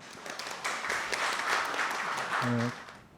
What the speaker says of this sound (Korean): 지금부터 제17회 전남교육 희망포럼 힘찬 박수로 시작하겠습니다.